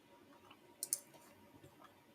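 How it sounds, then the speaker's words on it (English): A computer mouse clicks twice in quick succession, faint and close, over quiet room tone during a live stream. "I am feverishly clicking"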